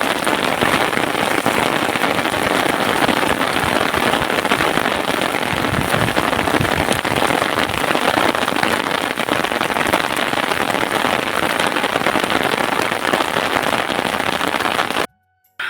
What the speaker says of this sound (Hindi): और उसी टाइम बारिश आ गई